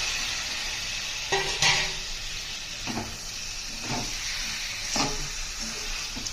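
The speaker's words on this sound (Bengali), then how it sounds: "লম্বা লম্বা করে আলু আর বেগুন ভেজে নিয়ে তারপরে মশলাটা ভেজে নিয়ে ওর মধ্যে দিয়ে এখন নাড়ছি।" Lote fish, sliced potato, eggplant and spices frying in a pan, with a steady close sizzle and a few stirring scrapes over it.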